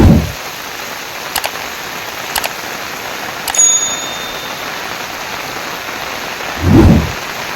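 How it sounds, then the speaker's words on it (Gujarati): Heavy rain falls in a village as a steady, even hiss, broken by a few sharp ticks and two dull low thumps near the start and end. "બાકી વરસાદ તો ફૂલ ચાલુ છે"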